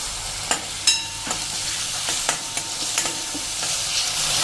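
Chopped tomato hits hot oil with garlic chutney for brinjal ora, a close, continuous sizzle punctuated by repeated sharp scraping and stirring clicks from a spoon against the pan.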